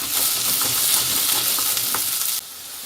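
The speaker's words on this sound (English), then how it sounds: "we'll stick a bit of oil in this pan and then get that up to temperature, and then we'll go in with these chopped potatoes" Chopped potatoes hit hot oil in a pan and sizzle loudly and steadily, with a sudden drop in intensity near the end, no voices present.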